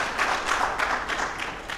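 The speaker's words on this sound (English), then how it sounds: "Let's clap for the panelists," Audience clapping for panelists at an agroecology conference in Uganda, a lively mix of many individual claps at moderate distance, steady and uninterrupted.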